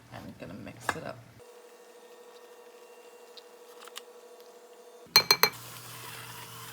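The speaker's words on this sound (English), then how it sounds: "I'm putting some rice into sesame oil. I'm gonna mix it up." Rice being stirred in sesame oil in a pan, soft patter and light clinks of utensil on pan under a steady low hum, with a few sharper scrapes toward the end.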